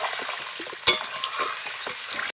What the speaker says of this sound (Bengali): এখন আমি তরকারির মধ্যে জল দিয়ে দেবো। পরিমাণ মতো একটু জল দেবো।